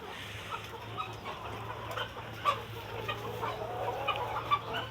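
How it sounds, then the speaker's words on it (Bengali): Layer hens cluck softly while eating feed, scattered short clucks over a low steady hum, fairly faint and close. "দেখেন সবগুলো মুরগি খাবার খাচ্ছে।"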